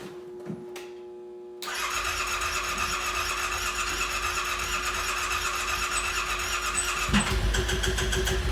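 A 2018 Yamaha Wolverine 850 X4 side-by-side, rebuilt, cranks and catches after a quiet moment, then settles into a loud, steady, rough-sounding idle that carries on close by with no talking.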